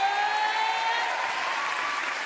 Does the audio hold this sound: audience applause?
yes